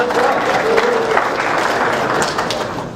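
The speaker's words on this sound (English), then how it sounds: "I really give yourself a round of applause" A room full of friends at an evening campaign kickoff event in Medford applauds, with sustained dense clapping at a steady loudness throughout and a brief voice briefly audible early on.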